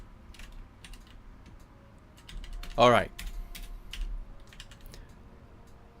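A computer keyboard clatters with scattered, quiet keystrokes in irregular bursts during a World of Warcraft Classic session, with a short voiced exclamation in the middle and soft clicks continuing around it.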